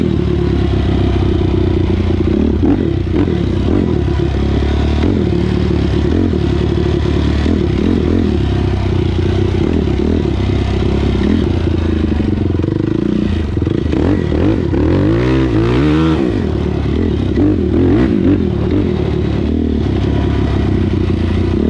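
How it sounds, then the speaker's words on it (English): A Yamaha YFZ450R quad with a Dasa exhaust warms up, its engine holding a loud steady drone close by, with some clatter and a brief rise in revs partway through. "So go ahead and warm the bike up."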